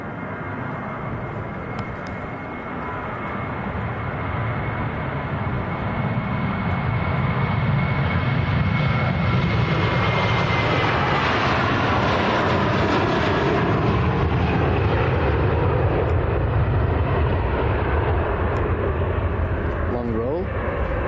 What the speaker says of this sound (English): got the Qatar 350 coming in now